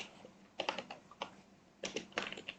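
Typing code on a computer keyboard: two quick flurries of close, clicky keystrokes with a short pause between them, fairly quiet and with no talking.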